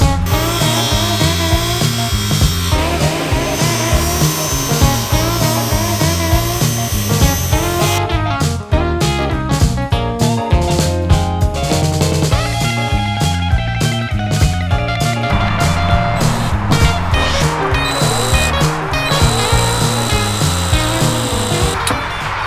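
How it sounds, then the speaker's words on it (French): A power tool cuts through a wooden plank during a cramped 4x4 electrical installation, giving a loud, continuous, buzzing rasp with shifting pitch and dense rhythmic chatter as the blade works through the wood. "Il va falloir que je découpe une certaine partie importante de bois."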